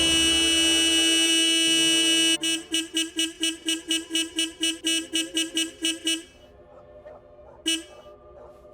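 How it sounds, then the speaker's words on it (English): A car horn in a cartoon honks over and over in quick, evenly spaced blasts after a long sustained tone, then stops, leaving a quieter stretch with one more short toot. "Richard ruins it by non-stop honking."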